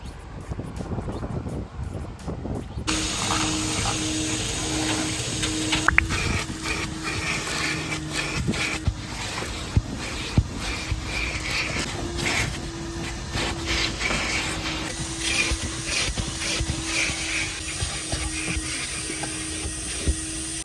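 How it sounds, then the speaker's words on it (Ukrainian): A vacuum cleaner drones steadily while cleaning a car's interior, a continuous mechanical hum with a faint tonal whine and occasional knocks and clicks from the nozzle against surfaces. "Тепер другим етапом у нас йде пилосос."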